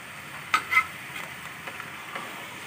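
A spoon pushes potatoes and fenugreek leaves around a pan: two distinct scrapes early on, then only faint, sparse clicks over a quiet low sizzle, with no talking.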